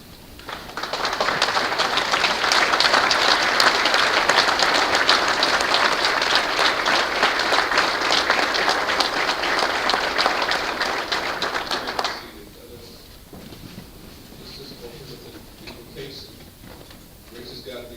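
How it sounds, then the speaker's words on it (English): An audience standing to applaud at a memorial for a coach, a dense, loud wave of many hands clapping that holds for about eleven seconds and then stops abruptly, leaving a quieter room. "if you can just rise to your feet and clap your hands for Coach Dave Miller"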